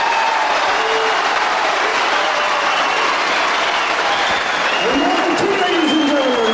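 Crowd at a televised professional wrestling bout cheers and applauds after a first fall, a dense, steady roar filling the whole stretch with a few louder whoops near the end.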